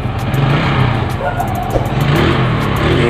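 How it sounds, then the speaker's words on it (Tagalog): A repaired Suzuki Raider J motorcycle, newly fitted with a spark plug after it refused to start, runs with a loud, close, rough engine note that revs up and down, with a voice partly heard under it. "Subukan natin itong paandarin natin. Ayan, umandar na siya."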